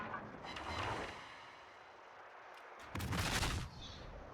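The naval guns of La Argentina, a broadside cruiser in World of Warships, fire shells: a rumbling blast that fades, then a second loud burst near the end.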